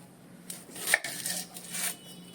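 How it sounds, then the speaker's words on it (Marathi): A knife chops onions on a board, giving a few soft thuds with one sharper knock, close and fairly quiet in a home kitchen. "हे खोबरं आहे आणि हे दोन कांदे आहेत मी चिरून घेतो आहे"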